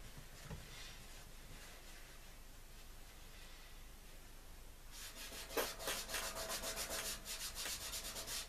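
Cloth rubbing grease and grime off an old PC case: a soft continuous scrubbing at first, then brisk rhythmic back-and-forth strokes that grow louder and more pronounced toward the end.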